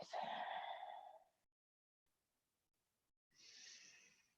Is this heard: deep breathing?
yes